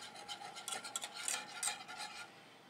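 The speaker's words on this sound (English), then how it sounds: "You want to make sure you whisk everything in together." Sour cream being whisked into a thickening cheese sauce in a pot, a steady scraping, swishing stir with brighter metallic strokes every half second or so, close and fairly quiet with no voices.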